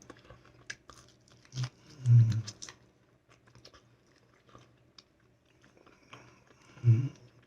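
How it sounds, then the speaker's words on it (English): Chewing on fried meat with small bones in it: a few soft crunching bites and moist mouth noises, close to the microphone, with quiet gaps between them. "You do have to be careful chewing on it because there are bones in it."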